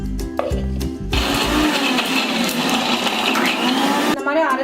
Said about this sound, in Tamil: இப்போ நான் அரைச்சிக்கிறேன்.